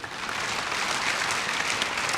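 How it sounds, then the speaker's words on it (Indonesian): A church congregation claps steadily, a dense, continuous round of applause at moderate volume with no talking. "Mau tepuk tangan buat Tuhan, saudara?"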